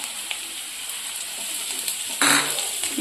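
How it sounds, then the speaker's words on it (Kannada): Cabbage and onion fry on high gas in a pan, a steady loud sizzle that swells sharply near the end as the food is stirred or tossed. "ಇದನ್ನು ಒಂದು ಸ್ವಲ್ಪ ಗ್ಯಾಸ್ ಜೋರಿಟ್ಟು ಹುರ್ಕೊಂಡು ಬಿಡೋಣ್ರಿ"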